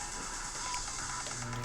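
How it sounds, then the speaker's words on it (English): A sewing machine runs a simple straight stitch through two bottom pieces cut from a dog food bag, giving a steady, continuous mechanical whir with a faint rattle throughout, loud and close with no talking. "here I'm just sewing the two bottom pieces that I'll have to patch together"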